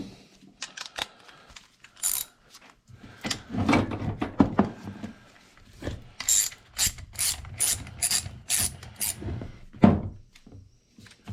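A ratchet loosening a bolt on the front fork of a 1976 Harley-Davidson FLH during disassembly gives close, sharp bursts of rapid clicking, several separate runs with short pauses between them.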